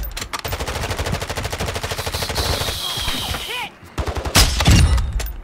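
Rapid automatic gunfire in a first-person shooter video game, with a fast regular stream of loud shots, then a short pause and a few heavier blasts, close and dominant.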